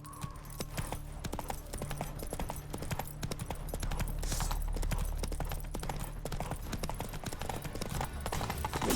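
Horse hooves clip-clop steadily in The Witcher 3, a quick, regular trotting rhythm that sounds close and moderately loud over game ambience, with faint talk in the background.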